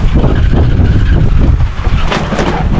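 A grass cutter engine labors and strains while trimming grass beside okra plants, with a blade that has gone dull; a dense, continuous low roar with rough wind-like noise, loud and close, no talking.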